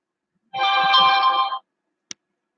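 A Discord notification chime rings out from a phone, a short bright tonal burst of about a second, close and clear, followed by a single brief click; no one talks.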